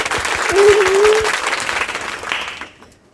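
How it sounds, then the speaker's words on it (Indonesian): A studio audience at a talk show claps in a dense burst of applause that swells, holds for about two seconds and then fades away, with a brief voice heard over it. "Aplaus sih buat Mas Rafa."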